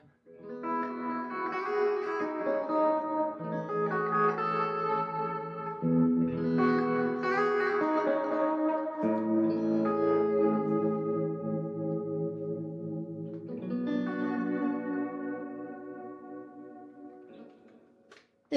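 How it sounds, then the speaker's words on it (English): Sustained electric guitar chords and notes from a Lipstick Stratocaster ring out with long echoing delay repeats and a wide, washed reverb tail, played alone. "you have delay, you put on a longer trail reverb."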